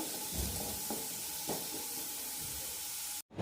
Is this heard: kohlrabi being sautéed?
yes